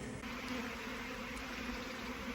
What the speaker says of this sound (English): I'm stuck in the middle of a swarm in my back garden.